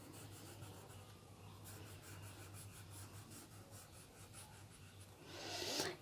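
A pencil sketching trees on paper for a village landscape drawing, with soft continuous rubbing strokes in quick repeated rhythm, very faint and close, ending in a brief louder scratch.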